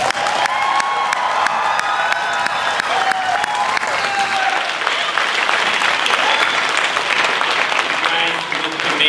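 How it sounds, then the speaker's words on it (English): A graduation audience fills the space with sustained, loud applause and scattered cheers, a dense continuous clapping wash lasting throughout without a break. "I think they need another big round of applause."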